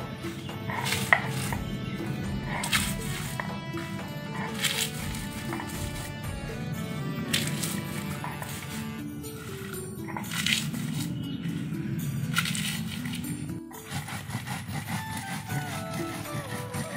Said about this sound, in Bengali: লঙ্কাটা এখন বেটে নিব।